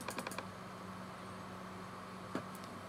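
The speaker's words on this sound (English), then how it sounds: "So I'm going to install the others by double-clicking on them now." Computer mouse clicking at a desk, a quick cluster of faint clicks at the start and another single click near the end, over a low steady fan hum.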